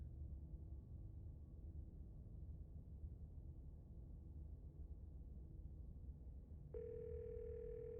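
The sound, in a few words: telephone dial tone, from a video game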